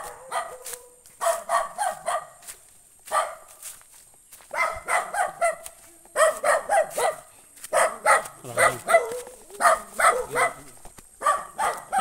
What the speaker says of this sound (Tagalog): Nagagalit pa yung aso.